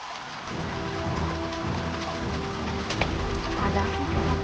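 Steady rain falls in a broadband hiss alongside cooing pigeons or doves, with faint voices underneath and a brief sharper knock partway through.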